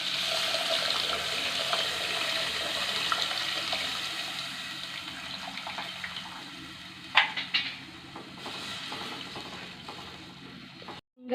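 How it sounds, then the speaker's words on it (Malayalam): Tamarind water is poured into a pan of fish curry on the stove, giving a continuous watery pouring and hiss that runs steadily, followed by a few brief clinks and knocks near the end. "പുളി ഒഴിച്ചു കൊടുക്കുക കേട്ടോ."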